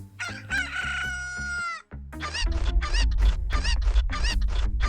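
Chickens crowing and clucking on a television inside the video game A Hat in Time, with a long rooster crow followed by a dense run of loud clucks over a low rumbling backdrop.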